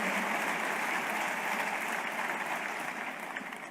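Steady applause from a large crowd at an award ceremony fills the space, dense and even, then begins to thin out slightly toward the end.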